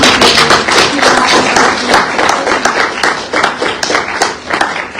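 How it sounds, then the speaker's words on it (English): A crowd claps steadily for several seconds, dense, lively applause that rises and dips slightly without anyone speaking. "a big round of applause for everybody."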